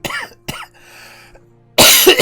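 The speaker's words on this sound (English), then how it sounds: "Everything makes the coughing worse." A person coughs in a few sharp, close bursts with a brief pause between them, ending in a louder, harsher cough.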